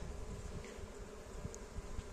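Anatolian honey bees (Central Anatolian race) buzz at the hive with brood frames, a soft, steady swarm drone mixed with faint individual flight passes, close and low, with no talking.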